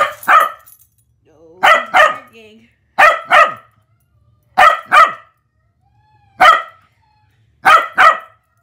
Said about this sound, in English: Okay, it's just barks.